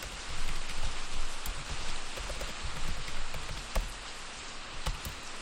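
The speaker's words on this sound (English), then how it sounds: "and I hate rain." Rain in Luanti (Minetest) hisses as a steady, dense patter of drops in the game, with occasional sharper taps standing out, continuous and fairly loud with no voices.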